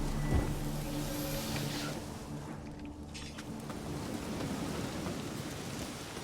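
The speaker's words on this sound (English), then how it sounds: "Ain't no use doing any work in this rain." Rain and rolling thunder in The Witcher 3 video game, a steady loud wash of rainfall with low thunder rumbling beneath it, no voices.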